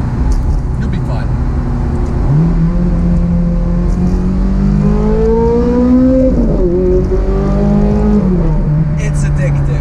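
A Ferrari 430 Scuderia V8 accelerates hard toward the red line, its engine note climbing and swelling loud and close from inside the car, with talking running over it.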